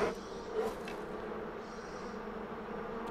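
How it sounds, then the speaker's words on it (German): A bee swarm in Far Cry Primal on PS4 hums steadily throughout, a dense continuous buzzing close by with a slight swell near the start and no talking. "Jetzt muss man natürlich ein bisschen warten, bis die Bienen weg sind."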